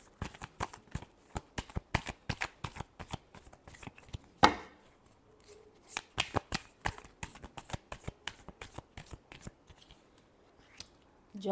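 Tarot cards shuffled by hand in quick, irregular bursts of crisp flicks and riffles, close and dry, with one sharper slap of the deck midway.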